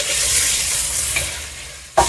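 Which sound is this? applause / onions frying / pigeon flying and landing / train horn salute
onions frying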